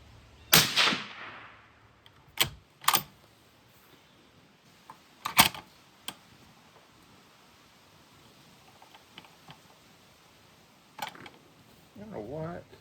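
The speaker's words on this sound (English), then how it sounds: "obviously we can see something happening there when I close the bolt." Rifle bolt on a 7mm-08 Ackley Improved closing on a reloaded brass cartridge with too much headspace, a few sharp metallic clacks and clicks spaced over several seconds, close and fairly loud in a quiet room, with brief rustling near the end.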